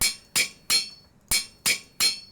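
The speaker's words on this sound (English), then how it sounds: "And then we hammer the tin rods to get the rings." Six sharp metallic hammer strikes ring out as tin rods are hammered into rings in Minecraft (FTB Resurrection). Each strike is bright and clanging with a short decay, falling in two quick groups of three.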